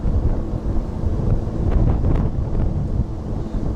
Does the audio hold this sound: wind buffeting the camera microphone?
yes